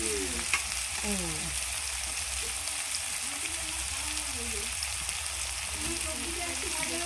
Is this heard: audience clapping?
no